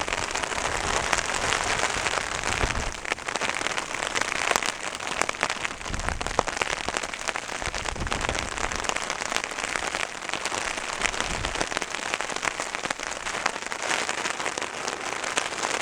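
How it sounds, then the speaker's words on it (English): Steady rain pours down on a windy wild camp in Scotland, a dense hiss of drops pattering on a surface, with occasional heavier bursts and gusts; no voices. "Storms and rain."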